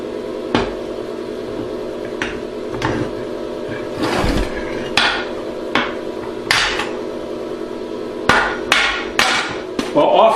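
A hammer strikes a chisel in a series of sharp metallic blows at irregular intervals, working to free a lump of melted copper; the hits are close and ringing, with a faint hum underneath.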